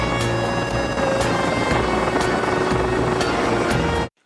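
A helicopter in a TV show scene makes a loud, continuous rotor drone with regular blade thumps for about four seconds before cutting off abruptly.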